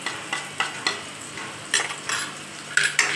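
Red chilli powder and turmeric are stirred into oil for a rustic matki curry, giving a soft sizzle broken by a series of spoon scrapes and light clinks against the pan.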